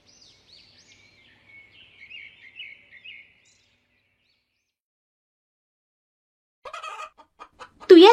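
Cartoon chickens on a village farm cluck in short, soft bursts, then go quiet, and a louder flurry of clucking and squawks follows near the end.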